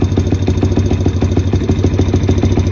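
An SSR YX140 pit bike engine runs loud and close during a rebuild, throbbing in a fast, steady rhythm that could be a high idle or held revs.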